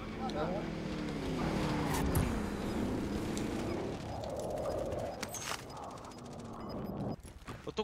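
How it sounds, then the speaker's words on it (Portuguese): A vehicle engine drones steadily while driving in a video game, its pitch rising and falling with shifting mechanical rattles, and a voice talks over it throughout before the engine fades near the end. "eu tô dirigindo"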